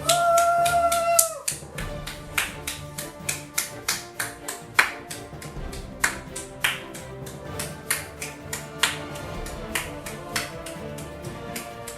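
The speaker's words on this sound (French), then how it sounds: "On va vous laisser repartir sous les applaudissements" A short electronic tone sounds, then a game show studio audience claps in a steady, even rhythm for a departing contestant, each clap sharp and distinct.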